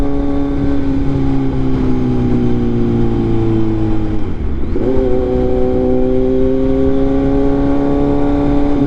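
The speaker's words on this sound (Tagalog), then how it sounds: "Rito medyo traffic tayo." Steady engine drone of cars moving in light traffic on an expressway, heard from inside a vehicle, continuous and fairly loud with a brief dip in the hum partway through, no talk.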